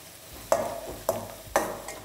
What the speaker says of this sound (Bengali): আর কারি পাতা দেওয়ার পরে পেঁয়াজের সাথে এটাকে ভালো করে ভাজতে থাকুন।